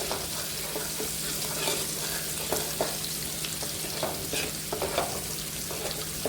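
Onion browning in a pan for South Indian style masala dal sizzles steadily while a spoon scrapes and stirs it in irregular strokes, close and fairly loud, with no talking.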